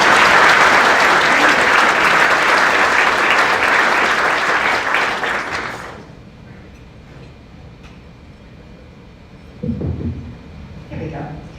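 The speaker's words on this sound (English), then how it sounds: "Now you can do the applause." Loud, dense applause from an audience at a workplace awards event fills the first six seconds, then fades out, leaving quiet room noise and a short burst of talk near the end.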